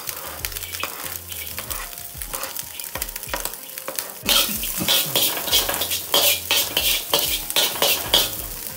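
Vegetables hit a hot pan with garlic and green chili for a fried-rice dish, first as quiet scraping stirs and then as a louder burst of sizzling and frying with repeated spatula strokes.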